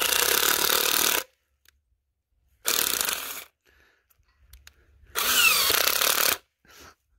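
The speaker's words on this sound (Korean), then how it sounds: "이제 이런 식으로 구멍을 뚫는 넣습니다." Power drill boring holes into an oak log to hold shiitake mushroom spawn, three loud bursts of drilling about a second long each, separated by near silence.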